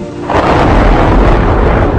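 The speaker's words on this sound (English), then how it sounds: "large, severe thunderstorms can be 10 or even 100 times more energetic" Loud, deep rolling thunder from a large, severe storm, a low rumble that swells after a brief quieter start and then sustains heavily for the rest of the moment.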